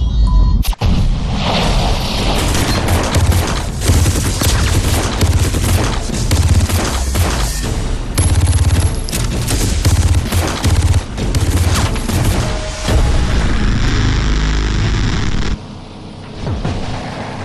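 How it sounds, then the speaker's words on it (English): Dense, loud gunfire and booming grenade explosions from the video game Far Cry 3 crackle almost continuously in a chaotic firefight, easing slightly near the end. "Heads up. Grenade! Take cover!"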